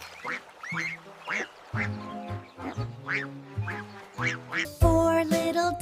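Repeated cartoonish duck quacks ring out in a cheerful children's nursery rhyme about five little ducks, layered over a bouncy musical backing, with a louder burst of music near the end.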